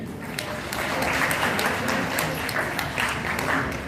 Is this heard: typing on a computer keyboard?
no